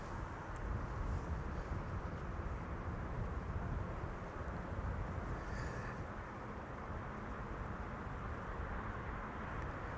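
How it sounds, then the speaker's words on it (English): A KLM airliner arriving from Porto at Amsterdam Schiphol, a broad steady jet roar that holds loud and even throughout with no voices. "KLM flight 1570 is coming in next, arriving from Porto in Portugal."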